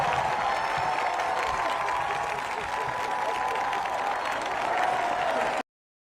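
A large political rally crowd for Bernie applauds and cheers in a sustained, loud, dense roar of clapping and voices that holds steady for several seconds before cutting off suddenly.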